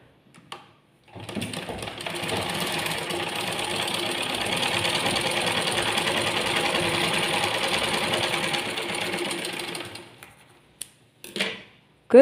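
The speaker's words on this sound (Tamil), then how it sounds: "தையல் போட்டது 3 இன்ச்சுக்கு தையல் போட்டிருக்கேன்" A sewing machine stitches a front cup dart on a blouse, running steadily for about nine seconds before stopping, with a few short bursts near the end.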